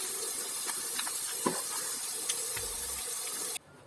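Running water rinses makeup and glitter off skin, a steady close hiss of flowing water lasting several seconds with a brief low thump near the end before it stops abruptly.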